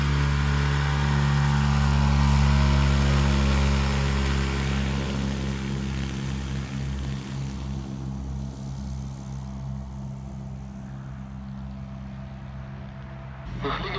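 Song 120 electric ultralight aircraft in flight, its motor and propeller making a loud steady hum with strong low harmonics that eases off partway through as power is reduced.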